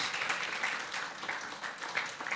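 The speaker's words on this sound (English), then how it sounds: "So join me in a big round of applause for these three contributors." An audience at a campaign launch event claps for contributors, a steady wash of many hands applauding at moderate distance, fairly soft and even throughout.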